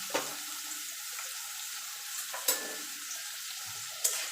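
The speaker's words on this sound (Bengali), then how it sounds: "এবার আলুটাকে আমি একটু লাল লাল করে ভেজে নেব।" Diced potatoes frying in hot oil in a home kitchen, a steady soft sizzle with a few brief clinks of a utensil against the pan, no voices.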